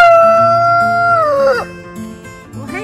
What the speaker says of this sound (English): They are my Easter egger roosters.